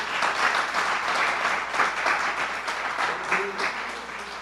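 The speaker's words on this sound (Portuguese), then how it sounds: "Dê uma salva de palmas ao Senhor" A church congregation gives a sustained round of applause during a worship service. Many hands clap in a thick, continuous roar that pulses slightly, with a voice faintly audible underneath.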